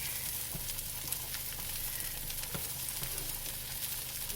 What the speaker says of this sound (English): then I will put the shrimp in there and brown it